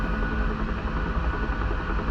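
A UH-1H Huey helicopter in DCS World flying on a harbour tour, its engine and rotor making a dense, steady, close drone with a pulsing throb, no voices.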